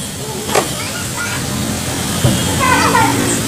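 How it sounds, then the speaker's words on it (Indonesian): A cat meows a few times indoors, short mewing calls standing out clearly against a steady background hum. "kucing kucing"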